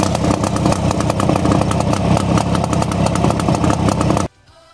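An old motorcycle with a Fichtel engine runs loud and close, a steady buzzing two-stroke drone with rapid firing pulses that cuts off abruptly near the end, leaving near silence.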